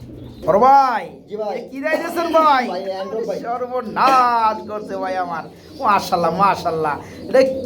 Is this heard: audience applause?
no